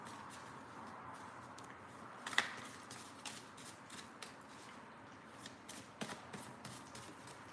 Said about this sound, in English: let's give the deck a shuffle